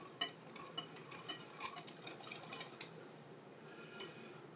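A spoon or utensil working through banana bread batter in a bowl, quiet rapid scraping and tapping strokes in a busy rhythm that fades after a few seconds, faint and close, no talking.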